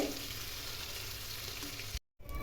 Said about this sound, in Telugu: ఇలా టర్న్ చేసుకుంటూ కాల్చుకుంటూ ఉండాలి.